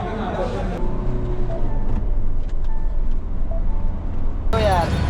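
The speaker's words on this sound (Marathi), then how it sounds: "आम्ही चाललेलो आहे थारची टेस्ट ड्रायव्हिंग घ्यायला" Mahindra Thar SUV on a test drive, its steady engine and road rumble filling the cabin with a continuous drone, with voices talking over it and a brief mechanical whir near the start and end.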